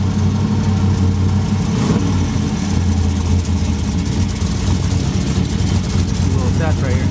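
A loud, steady idle from a 1986 Mercedes 560SL fitted with a 5.3 LS V8 and a Truck Norris cam, sitting in neutral, with a deep continuous rumble and a slightly lumpy beat throughout.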